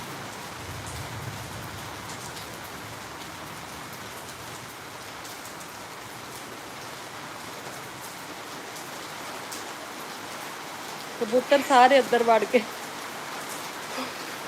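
Heavy, continuous rain falls steadily after four days of downpour, a dense even hiss throughout, with a brief voice speaking near the end.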